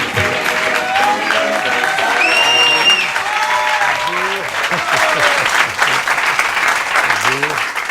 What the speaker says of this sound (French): je vous demande d'applaudir Monsieur Philippe Chevalier